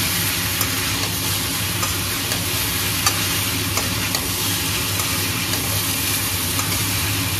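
Pork frying in a pan with garlic, chilies and cumin for a lemon pork dish, a loud, constant sizzle with occasional scrapes and taps of a spatula stirring, with no talking.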